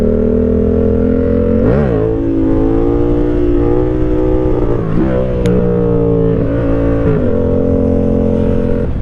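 A Yamaha MT-07 motorcycle with a custom exhaust runs loud and close until it runs out of gas, its steady throaty idle broken by a few quick revs and a brief sputter.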